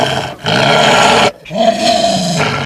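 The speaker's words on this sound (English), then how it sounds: "It let out a loud growl to assert its dominance and provoke the group" A huge alpha wolf with white and silver fur lets out a loud, deep growling roar in two long bursts split by a brief pause, close and forceful.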